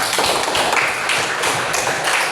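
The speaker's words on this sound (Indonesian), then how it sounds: "Kita tepuk tangan untuk orang ya" An audience in a classroom claps hands together in a dense, loud, continuous patter for a couple of seconds, with no talking over it.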